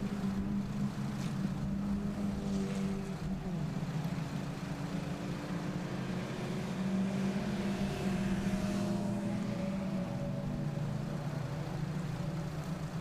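Little Ford Fiesta Zetec race cars in third gear on a long uphill stretch of a circuit, a steady engine drone with shifting overlapping tones as several cars pass at moderate distance.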